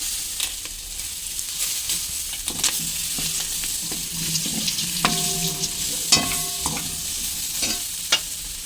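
Mutton liver fries in a pan with masala, green chillies, curry leaves and coriander, making a steady sizzle broken by scraping stirs and a few sharp clinks of the spoon against the pan.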